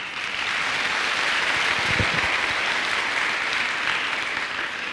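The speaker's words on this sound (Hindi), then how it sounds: "मैं चाहूंगा आप सारे लोगों के लिए एक बार जोरदार तालियां अपने लिए" Loud, dense applause from a large seminar audience, a continuous roar of clapping with steady intensity across the whole stretch.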